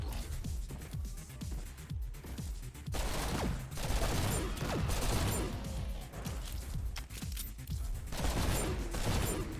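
Rapid full-auto gunfire from the treachery gun in the fast-paced shooter GTTOD, a dense stream of loud shots in quick bursts with brief pauses, continuous across the stretch.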